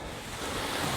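Strong wind buffets the microphone outdoors while a paraglider is readied for launch, a dense continuous roaring rush with no clear breaks.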